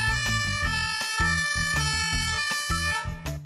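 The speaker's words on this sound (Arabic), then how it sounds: "المطافي" Fire engine siren on a road in traffic, a loud steady wailing tone with pulsing rhythmic beats underneath, continuous throughout with no talking.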